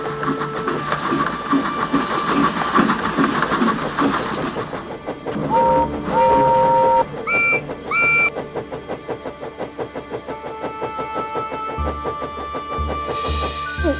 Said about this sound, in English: the mysterious sound of the lost engine echoed through the night on Muffle Mountain